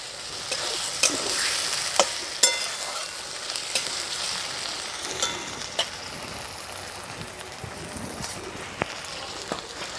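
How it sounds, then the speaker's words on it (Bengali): Whole spices sizzle in hot oil in a pan for a paneer masala, with steady frying crackle and sharp clinks and scrapes of a spoon stirring them now and then. "হালকা করে একটু ভেজে নেব।"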